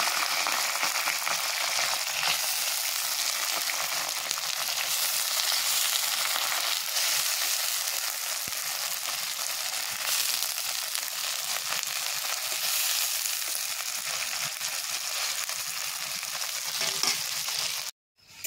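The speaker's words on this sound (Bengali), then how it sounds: "এবার কুচিয়ে রাখা পেঁয়াজগুলো আমি দিয়ে দিচ্ছি" Chopped onions for a duck curry sizzle steadily in a hot pan, a dense and even crackle that keeps going with occasional stirring and then cuts off at the end.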